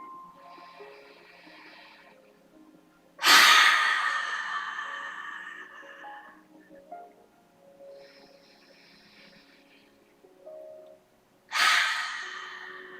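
Slow deep breathing during a guided exercise, with two long, loud exhalations spaced apart and softer breaths in between, close and alone without talk.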